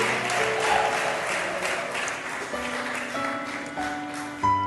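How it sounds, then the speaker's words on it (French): Steady crowd applause fills the room, dense clapping holding at a constant level throughout with a brief swell near the end. "Est-ce qu'on peut applaudir pour eux?"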